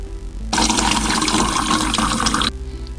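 Water poured into a measuring container, a steady gushing stream that starts abruptly, fills continuously for about two seconds, then cuts off, loud and close.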